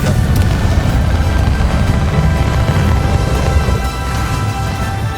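A Confringo fire spell explodes in Hogwarts Legacy, a loud sustained booming blast with deep low rumble that rolls on for several seconds and eases slightly near the end.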